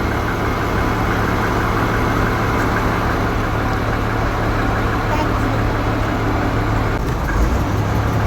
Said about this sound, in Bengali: ওই দেখো একটা লঞ্চ যাচ্ছে।